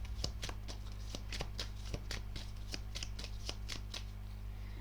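Tarot cards are shuffled and drawn by hand in quick, close, crisp flicks and slaps in an irregular rhythm over a low steady hum, with no talking.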